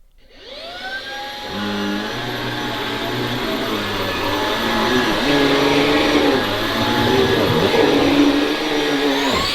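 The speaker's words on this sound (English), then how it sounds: "this is my vacuum of the month, as chosen by me. Oh, sorry, Molly. Oh, it's a Halo capsule. Let's give it a go." A Halo Capsule cordless vacuum cleaner switching on and running, a loud, close motor whine that ramps up and then holds a steady roar with slight shifts in pitch as it moves.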